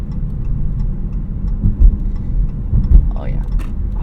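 A 2017 Dodge Charger with a V6 engine drums low and steady from inside the cabin in fifth gear through city traffic, a muffled road rumble with slight swells as it pulls, while someone talks over it.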